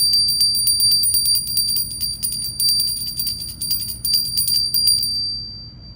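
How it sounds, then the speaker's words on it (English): A bell is struck to cleanse the air, ringing in repeated bright, shimmering strokes with a sustained high tone, loud and close, then fading out as the ringing stops near the end; no talking. "We're going to go ahead and cleanse the air with the bell."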